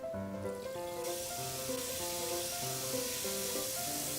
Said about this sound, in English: my bath bomb recipe will give you all these wonderful fizz